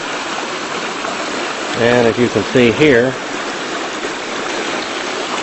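Water rushes steadily over the top of a small bridge in a flooded garden creek, a constant broadband wash throughout, with someone briefly speaking over it in the middle.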